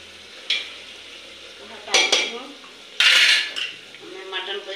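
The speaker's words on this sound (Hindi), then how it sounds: "अब मैं मटन को इसमें डालूंगी प्याज में।" Mutton pieces drop into fried onions in a pressure cooker pot on a heater, with sharp metal clanks of a spoon against the pot and bursts of loud sizzling, close and without talking.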